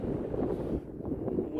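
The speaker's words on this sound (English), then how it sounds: "Wind's kicking up pretty good." Wind buffets the microphone outdoors during a drone flight, a steady low rumbling roar that dips briefly midway and then resumes, loud and close with no talking.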